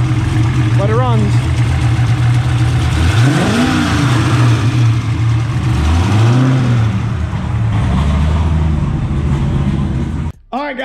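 Turbocharged 363 stroker V8 in a Fox Body Mustang, fitted with Holley Terminator X fuel injection, runs loud and close with a steady idle rumble broken by several rising and falling revs, then cuts off abruptly near the end.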